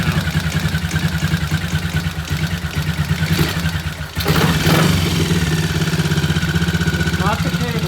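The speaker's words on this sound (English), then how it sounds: "It'll idle like that very nicely for a while. Great idle right now." Suzuki T20M motorcycle engine idling close by, a steady, even low thrum with a constant rhythmic beat that holds throughout, its tone shifting slightly partway through.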